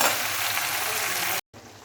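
Taro and elephant apple fry in hot oil with a dense, continuous sizzle that breaks off briefly near the end and then resumes more quietly.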